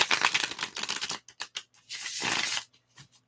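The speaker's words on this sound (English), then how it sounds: "Just relax while I shuffle the cards." Tarot cards being shuffled in quick riffling bursts, a brisk flutter followed by a few soft taps and a longer riffle, close and fairly quiet.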